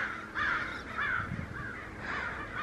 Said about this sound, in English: I heard just so many birds and I looked up